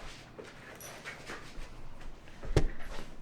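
A pet dog chasing his tail indoors makes scattered soft whimpers, pants and scuffles, ending in a brief louder thump or yip.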